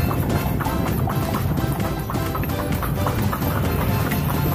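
Horse hooves clip-clopping as the horse pulls a tanga carriage, a rapid steady beat of hoof strikes under dense rumbling road and wheel noise, close and loud.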